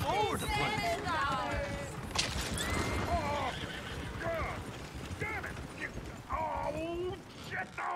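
Horses whinny and neigh repeatedly in Red Dead Redemption 2, several shrill calls over ongoing clip-clop of hooves, with game dialogue voices mixed in.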